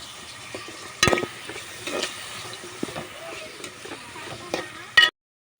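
Onions frying in two spoons of oil, a soft continuous sizzle close by with occasional louder clinks and scrapes of a stirring spoon against the pan, ending abruptly.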